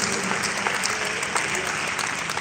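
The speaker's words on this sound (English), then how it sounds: "A very warm round of applause for the Grand Chairman Bayelsa State." An audience at a professional development session in Bayelsa State claps loudly for the Grand Chairman, with close, dense clapping filling the whole short stretch.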